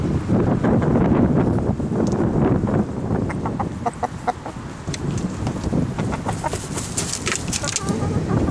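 Backyard hens cluck and murmur continuously over gusty wind buffeting the microphone, with several bursts of clucking close by and no one talking.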